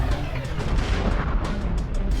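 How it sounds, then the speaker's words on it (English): A metallic arm cannon fires an energy beam blast, a loud, dense booming burst that rumbles continuously with crackling high-end spikes throughout. "arm morphs into a metallic cannon, blasting forth an energy beam"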